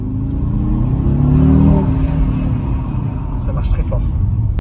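An Audi RS Q3 400 hp engine revs up with a deep rumbling roar that swells and then settles, heard close from inside the car, with the drone continuing beneath.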